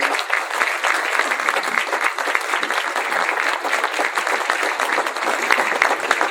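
Audience at a Buhl, Idaho meet-the-candidates event applauding the candidates, sustained loud clapping from many people throughout, close and continuous.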